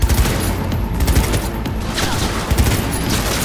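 Rapid bursts of gunfire from the Cyberpunk 2077 video game crackle in a dense, continuous fusillade of overlapping shots, loud and close throughout.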